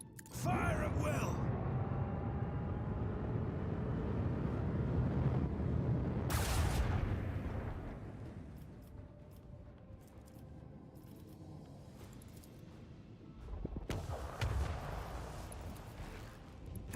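Starship lance batteries firing a volley in the Warhammer 40k game Rogue Trader: heavy booming blasts and rumbling impacts over a dense battle din, one sharp burst midway and another near the end, under a voice.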